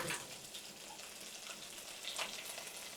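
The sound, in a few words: mustard seeds and cumin tempering in peanut oil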